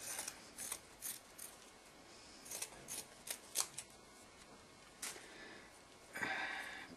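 Scissors snipping through fabric for a nursing pillow, a string of short crisp cuts close by, with a longer rasping slice near the end, no voices.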